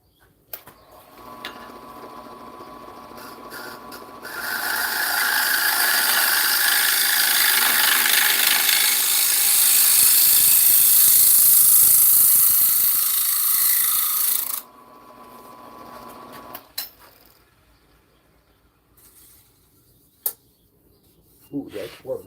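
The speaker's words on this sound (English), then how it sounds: "and then I'm going to sand" Wood being sanded with a power sander, a loud steady whirring and rasping run of about ten seconds that starts and stops abruptly, framed by quieter scraping, clicks and handling noise.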